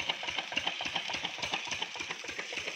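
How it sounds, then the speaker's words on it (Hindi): An old diesel engine runs a water pump with a fast, steady chugging knock, even and mechanical, heard close with no voices. "ये बहुत पुराना इंजन है, ये जो मशीन चल रहा है ये पानी का है।"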